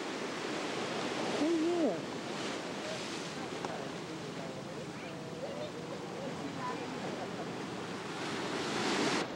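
Pacific Ocean waves crash on rocks along the California coast, a steady broad roar that swells and recedes, with a person speaking briefly over it.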